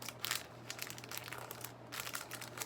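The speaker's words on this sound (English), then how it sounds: "One cupcake liner, and all I'm going to do is I'm going to fold it." A paper cupcake liner is folded by hand at a children's craft table, producing faint, close crinkling and rustling in short bursts.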